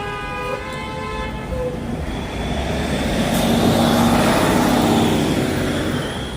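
Car horns honk in Times Square traffic on New Year's Eve. A sustained horn blast opens the clip, then a steady wash of engine and road noise continues, with further distant horn tones.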